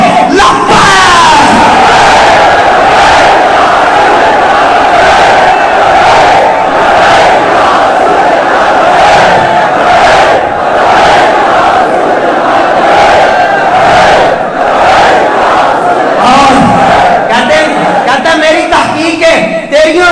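A large crowd at a Friday religious sermon chants slogans in unison, loud and sustained with rhythmic repeated shouts and overlapping voices throughout.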